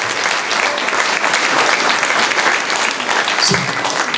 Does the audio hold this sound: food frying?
no